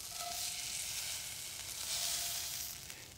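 Beef steak searing in smoked beef tallow in a hot pan on a grill, giving a steady, continuous sizzle and crackle with no talking.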